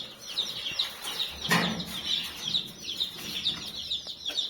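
Many small chicks peep and cheep continuously at close range, high-pitched and overlapping, with a brief louder rustle partway through.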